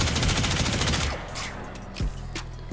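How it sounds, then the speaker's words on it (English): Rapid automatic fire from a Prisma Tetra rifle in the video game Warframe, a loud dense burst of shots that cuts off, followed by a few single reports. "I can shoot him down to about half health"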